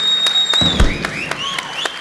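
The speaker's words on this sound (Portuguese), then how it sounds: "salva de palmas para ele" Applause with a scattering of claps and cheers, fairly loud and close, over a crowd.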